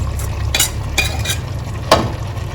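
Spoon stirring fried onions into sizzling biryani masala with mint in a pan, steady frying hiss under a few distinct scraping strokes, close and fairly loud.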